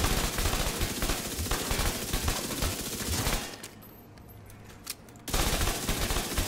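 Backfire exotic SMG in The Division 2 firing in long rapid automatic bursts, dense and loud, with a brief pause of quieter ambience before the sustained fire resumes.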